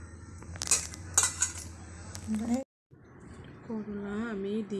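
Stuffed karela is set into a tawa with mustard oil and covered with a lid, giving sharp metallic clinks and clatters of utensils and cookware, then a short pause before a voice talks over softer kitchen noise.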